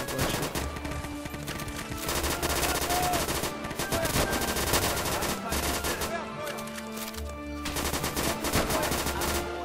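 Rapid bursts of automatic gunfire in the World War II shooter game Easy Red 2, loud and nearly continuous with brief gaps, heavy shots and distant explosions layered throughout.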